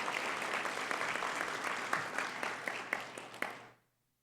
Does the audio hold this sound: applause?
yes